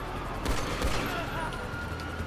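A burst of rapid pistol gunfire in a shooter game, with several quick sharp shots close together near the start, then continuing game noise.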